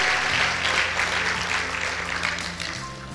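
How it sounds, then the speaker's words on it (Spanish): A church congregation gives an ovation to the King in worship, a dense wash of clapping and cheering that holds steady and loud for the whole stretch, fading slightly toward the end. "Dale una poderosa ovación al Rey."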